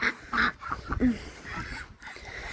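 A few nasal duck quacks close by, irregular and fairly loud, over outdoor background noise.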